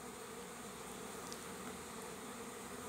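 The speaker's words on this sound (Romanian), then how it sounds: "Avem albină care urcă pe stup, în verticală, dar zboară imediat și se învârte în jurul stupului." Honeybees drone steadily around a hive as they take orientation flights, a close, continuous buzz with no voices.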